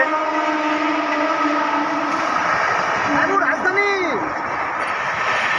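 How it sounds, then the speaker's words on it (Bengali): A Rajdhani Express rolls past a railway station at night with a continuous rumble and a drawn-out horn that bends in pitch, while voices speak over it nearby. "হ্যাঁ রাজধানী পাস করছে ওই দেখুন রাজধানী পাস করছে"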